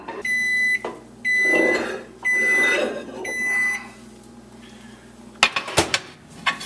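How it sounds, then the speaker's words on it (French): A microwave oven heating a chocolate mixture for a whipped-cream chocolate tart runs in intermittent bursts with a steady hum and high-pitched tones, then closes with a cluster of sharp clicks and clatter near the end. "on va chauffer au micro-ondes en intervalle de 2 minutes à la fois"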